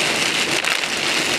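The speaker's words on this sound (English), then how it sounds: "rain's coming down pretty good" Heavy rain pounds steadily on a car during an approaching thunderstorm in Hueytown, Alabama, a loud, continuous hiss of drops on the vehicle while driving slowly.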